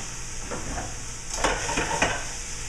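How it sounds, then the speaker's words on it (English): Frozen green beans hit a hot pan with garlic, giving a steady sizzle with a few scraping stirs and clatters rising partway through, close and fairly loud, with no talking. "we're going to add our green beans right into the pan"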